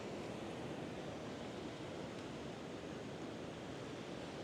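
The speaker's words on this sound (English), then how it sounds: "is that those waves breaking through?" Ocean waves breaking at a fishing pier in Galveston form a steady, dense rushing wash, continuous and fairly faint, with wind noise and no distinct individual crashes.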